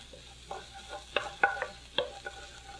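Minced ginger sautéing in a pan for a single serving of pad thai, a low steady sizzle broken by several sharp scraping stirs, close by and with no talking.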